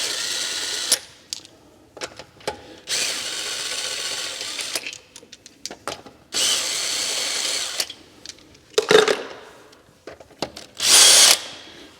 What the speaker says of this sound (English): It's my regular old DeWalt. We'll run this backwards. And I'll take off each lug nut.